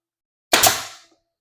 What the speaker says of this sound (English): I'm just going to kind of nail on an angle, trying to